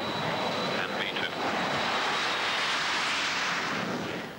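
A BAC One-Eleven jet airliner roars steadily during its takeoff from a busy airfield, a loud, sustained broadband engine rush filling the whole clip, with faint voices underneath.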